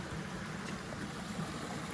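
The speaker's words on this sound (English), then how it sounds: "Pretty waterfall." A steady broadband rush of water spilling down a waterfall along a forest trail at High Gap Park in Big Canoe, Georgia, a constant even roar with no break.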